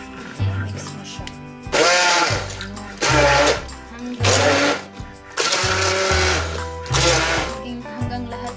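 Short loud bursts of a blender whirring garlic and oil into toum, the Lebanese garlic sauce, come in several pulses of about a second each, with someone talking in the gaps between them.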